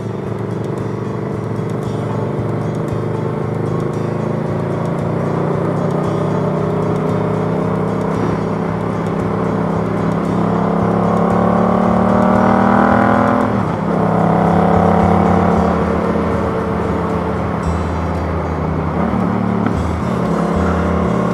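A motorcycle with a modified throttle plate idles with a rhythmic thumping, then revs up in a long rising whine that peaks, drops and settles back to a lumpy idle, close by on a road, with no voices.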